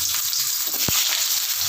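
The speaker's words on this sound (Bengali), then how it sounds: "হালকা নাড়াচাড়া করে আমি ভেজে নেব ফোড়নটার সঙ্গে" Pointed gourd sizzles in hot oil with cumin seeds, a steady crackling fry close at hand, broken once by a short dull knock of stirring.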